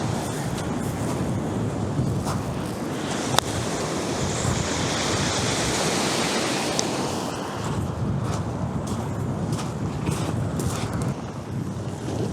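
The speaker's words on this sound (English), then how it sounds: "Now that tide is really starting to push in." Waves breaking on a shingle shore at Glyne Gap, Bexhill, as the tide pushes in, a continuous loud rolling surf wash mixed with wind buffeting the microphone, with no one speaking.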